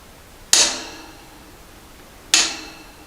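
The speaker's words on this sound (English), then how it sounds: "this is where we will tighten it until we hear the torque wrench click" A torque wrench clicks twice, sharp and close, about two seconds apart, while tightening a bottom bracket to 40 pounds on a Schwinn Airdyne exercise bike during a loose pedal crank repair.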